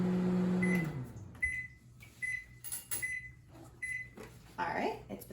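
A microwave oven runs on high while heating an omelet mixture in a mug, its steady hum lasting under a second before a series of short beeps sounds over a voice talking.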